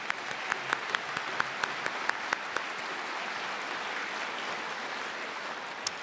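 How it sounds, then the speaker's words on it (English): A graduation-ceremony audience applauds the stage party, a steady wash of clapping with several sharper nearby claps standing out early on, then settling into an even sustained ovation. "Round of applause for the stage party."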